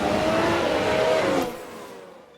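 A race car in F1 Manager 22 roars and slides in a spin on track, a dense engine-and-tire wash that holds steady, then fades away over the final second.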